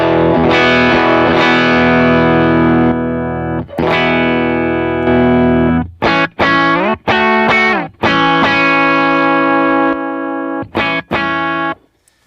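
Loud distorted electric guitar runs through a pedal with a 10 dB boost engaged, sustained ringing chords giving way to tight staccato chugs and stabs, then a final chord that cuts off abruptly.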